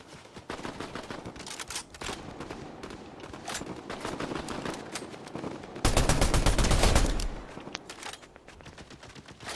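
Rapid automatic gunfire in the Fortnite battle royale, dense bursts and a heavy loud salvo near the middle, with sporadic single shots throughout.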